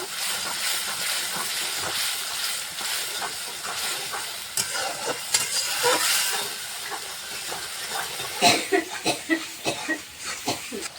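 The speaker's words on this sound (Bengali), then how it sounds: "ভালো করে কষিয়ে নেব" A masala of turmeric, salt and chili powder sizzles and hisses in hot oil in a pan, with irregular scraping strokes and sputtering bursts growing more pronounced toward the end.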